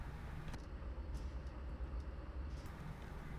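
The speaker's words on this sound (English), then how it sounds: "Here comes the service train right here." A service train passing by in the Train Simulator 2021 video game: a faint, steady low rumble that holds evenly through the clip, with light clicks above it and no talking.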